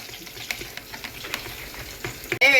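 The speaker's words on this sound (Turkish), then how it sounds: "Bunu artık iyice çırpacağız arkadaşlar" Strained yogurt thinned with a little water is whisked in a bowl for yayla soup. A close, quiet run of quick scraping and tapping strokes ends in a louder, denser burst.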